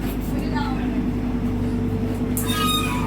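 The Padatik Express (12377) rumbles along at steady speed on the Sealdah–Dooars route, a constant low hum and rattle from inside the carriage with faint squeals and a brief louder clatter near the end.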